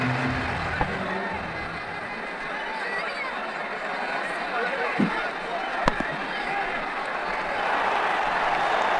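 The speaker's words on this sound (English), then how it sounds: "The crowd really enjoyed that." A cricket stadium crowd roars and cheers after a shot in an IPL match between Mumbai Indians and Rajasthan Royals, a broad continuous wash of noise with a few sharp knocks.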